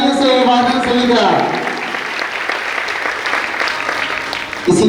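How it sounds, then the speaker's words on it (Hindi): A crowd claps steadily for several seconds, a dense wash of applause with a voice briefly audible at the start and end. "एक बार जोरदार तालियों से अभिवादन सभी का।"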